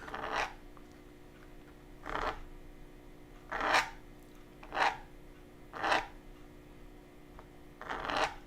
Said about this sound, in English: I'm going to do a little scraping here